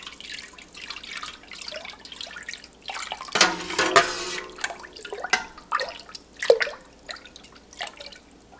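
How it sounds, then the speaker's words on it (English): A spoon stirs calcium chloride solution back and forth and up and down through milk in a pot for Gouda cheese, making intermittent close sloshing, dripping and splashing sounds with no talking. "I'm gonna add in my calcium chloride water solution. Thoroughly mix that around, again, back and forth as well as up and down."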